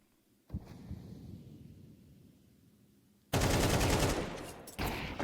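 Gunfire in a Counter-Strike 2 match, a burst of rapid automatic shots then a louder sustained volley and a final short burst, close and harsh with no talk.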